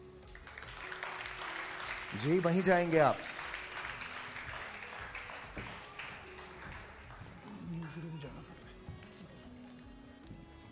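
Audience applause welcomes Shahab Uddin onto the stage at a Ramazan comedy show, a steady wash of clapping with a voice speaking over it.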